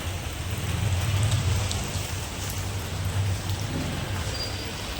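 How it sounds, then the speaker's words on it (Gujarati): Heavy rain pours down in a dense, steady roar, with a low rumble underneath. "અહીંયા ખૂબ વરસાદ આવ્યો છે."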